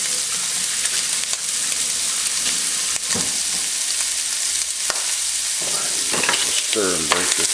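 Ground chili meat sizzles steadily in a hot pan while a utensil stirs and breaks it up, with scraping knocks standing out over the constant frying hiss; no one speaks.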